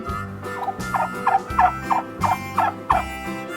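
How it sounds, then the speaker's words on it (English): Turkey gobbling in a fast, close, loud rattling run of repeated throaty bursts, with no one speaking. "The turkey makes the sound gobble."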